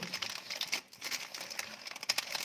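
Plastic packaging crinkles and crumples as a package of jewelry fittings and natural stones is unwrapped, a continuous close rustle with small tearing bursts and no talking.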